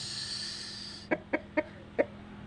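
Four short, close clucks from a fighting rooster, evenly spaced, after a steady background hiss abruptly stops.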